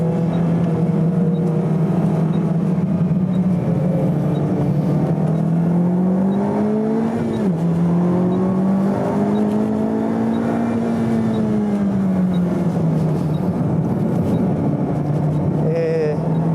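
Racing car on the Tsukuba circuit, an NSX fitted with a GT-style wing, engine note rising and falling steadily through acceleration and shifts, with an in-car voice talking over it throughout.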